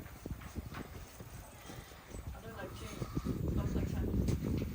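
Horse hooves clip-clop at a horse auction, a run of fairly close irregular hoof strikes, while people talk and a growing crowd and background noise swell up toward the end.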